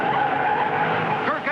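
A number 44 Chevrolet stock car spins out in traffic at a 1962 USAC race in Milwaukee, a loud continuous tire skid and engine drone with a squealing rise near the end, with race commentary running underneath.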